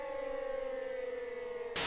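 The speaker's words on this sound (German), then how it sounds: "Gut, Sirene geht auch schon mal." A steady wailing siren sounds from a fire, police and rescue simulation game (Emergency 4, Wegberg mod) during a major fire alarm, holding a sustained tone for nearly two seconds before a burst of loud static-like noise cuts in.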